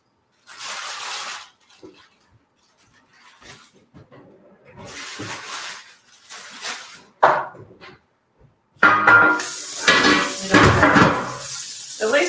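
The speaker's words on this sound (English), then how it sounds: "all of my dirty dishes are going directly into the sink" Dirty dishes are set into a kitchen sink during a holiday sauce cooking session, with scattered clinks and a burst of running water and clatter near the end. No one speaks.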